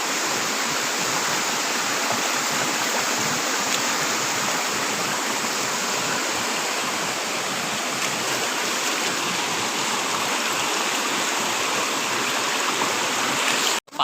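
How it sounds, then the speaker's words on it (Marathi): Stream water rushing at night in the Konkan countryside during a crab-catching outing, a loud, steady broadband flow heard close up and alone, cutting off abruptly at the end. "पाणी बघा इथं किती आहे"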